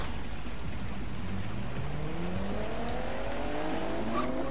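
A car engine in the racing video game Forza Horizon 3 revs and shifts through rising, gliding tones, a steady mid-level drone with occasional faint tire noise and no speech over it.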